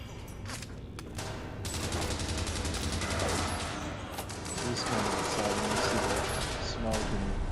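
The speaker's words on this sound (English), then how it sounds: "smoke and guns, bullets flying away" Sustained gunfire and scattered bursts crackle through a battle in the Fallout London game, dense and continuous with louder swells, while a voice talks over part of it.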